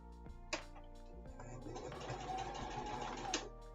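Close and quiet, a sewing machine hums steadily while stitching seams on small mini dice bags, with a couple of brief clicks at the start and end of the run.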